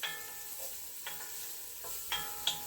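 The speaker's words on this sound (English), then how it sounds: "I'm just letting this onion and butter thing go." Onion cooking in butter in a pan gives a quiet, steady sizzle with a few light clicks and scrapes of a utensil stirring, close and faint, with no voices.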